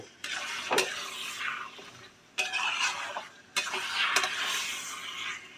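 Chicken pieces are stirred and fried in a pan over raised heat, with three bursts of scraping and sizzling separated by short pauses, close and moderately loud with no speech.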